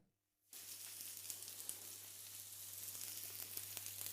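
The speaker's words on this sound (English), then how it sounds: "let that fry nicely now. And while it's sizzling away" Bell peppers sizzle and fry in a hot pan for a shakshuka, the sound bursting in after a brief silent moment and then holding as a steady, dense crackle with small pops.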